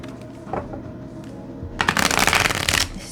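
A deck of playing cards, still stiff and being broken in, is shuffled: a soft riffle at first, then a loud, close burst of rapid flapping and riffling lasting over a second.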